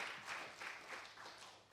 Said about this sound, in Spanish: Yo a usted daría un aplauso.